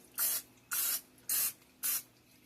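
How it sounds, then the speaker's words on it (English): Cooking spray hisses onto a pan in four short, evenly spaced bursts, each a crisp close spritz separated by brief pauses. "We'll spray our pan."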